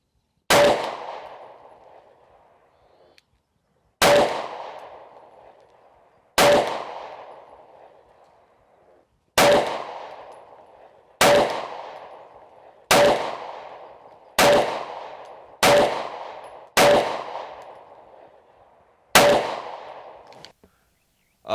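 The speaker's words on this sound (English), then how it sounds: "I'll put it at 25 and see how I shoot with iron sights" Sig P365 pistol fired at 25 yards on a range, about twelve loud, sharp shots at an uneven pace, each with a short ringing decay and no talking.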